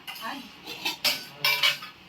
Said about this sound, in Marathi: भांडी मांडताय